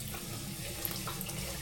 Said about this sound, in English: Rinse it 2 times. Like that, rinse it 2 times.